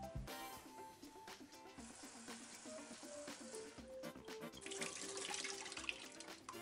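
Tap water runs steadily over peeled prawns in a kitchen sink, a continuous splashing rush that swells louder toward the end, with no talking.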